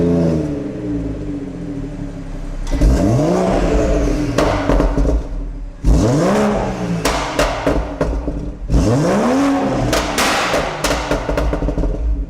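A BMW 3-litre engine with a sports cat and a pop-and-bang overrun map revs hard three times, each rise and fall ending in loud, close crackles and bangs from the exhaust, with a low idle rumble between bursts.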